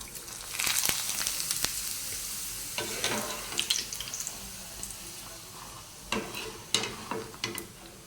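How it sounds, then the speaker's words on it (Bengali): Papads fry in hot oil, a steady hissing sizzle with bursts of crackling and occasional clinks of a utensil, fairly close and moderately quiet. "ভাবতেই পারছি না এত বড় বড় করে হয়ে যাচ্ছে ভাজা"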